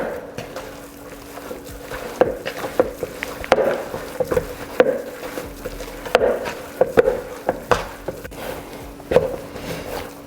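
Bread dough kneaded by hand: repeated soft slaps and sticky squelching thuds come in an uneven rhythm, close and moderately loud, with no talking over them.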